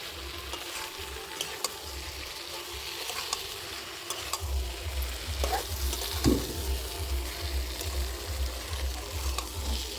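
Jackfruit curry fries in a pan after water is added, making a steady close sizzle with stirring scrapes and soft rhythmic thumps that grow busier halfway through.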